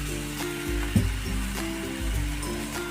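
Cumin seeds sizzle in a pan with roasted green chillies for a thecha. A close, crackling sizzle sounds over a low hum, with a few sharp clicks and taps from stirring and no voices.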